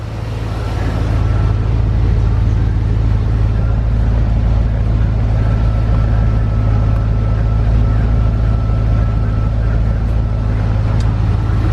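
SPAL electric radiator cooling fans running on a Corvette with the AC on, a loud, steady low droning whoosh that spins up and holds constant throughout.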